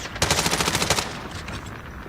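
Rapid automatic gunfire in COD Mobile, a close, loud burst of about a dozen evenly spaced shots lasting under a second, followed by fading echo and a softer trailing rattle.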